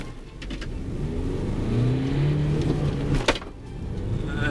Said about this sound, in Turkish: Doldurarak kalkarsam ne olur?